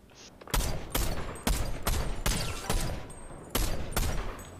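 Fortnite gunfire aimed at Darth Vader rings out as about eight loud, evenly spaced shots, close and sharp, with no talk over them.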